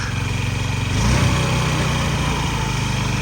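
Close, steady idle of a Honda Dio AF57 scooter engine, a continuous buzzing putter with a slight rise in revs about a second in before settling back.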